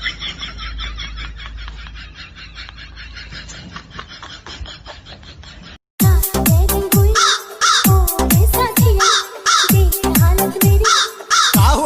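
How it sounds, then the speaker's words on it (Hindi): Crows caw repeatedly at close range, loud harsh calls arriving in quick irregular bursts after a quieter opening stretch of background noise. "अच्छा, कौवे का आवाज आ रहा है भाई।"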